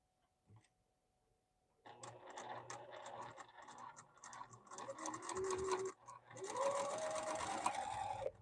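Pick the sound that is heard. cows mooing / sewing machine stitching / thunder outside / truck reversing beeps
sewing machine stitching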